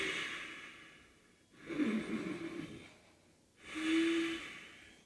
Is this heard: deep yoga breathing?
yes